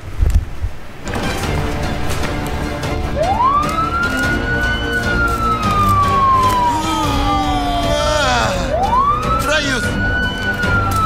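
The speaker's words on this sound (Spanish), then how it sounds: "Sonido de sirenas" An emergency vehicle siren wails loudly, its tone sweeping up and slowly falling, then rising again, over a busy, dense background of other noise.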